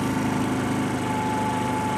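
A 50cc scooter engine idles at around 3,000 RPM, giving a loud, steady, high buzzing drone with a constant pitch and a slight rattle, very close and alone.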